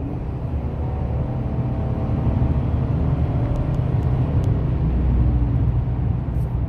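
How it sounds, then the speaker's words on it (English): A Chevy Silverado pickup accelerates from around 65 mph on the road, a steady moderate engine and road roar building gently, heard from inside the cab with a few faint clicks. "Now I'm going to do an acceleration."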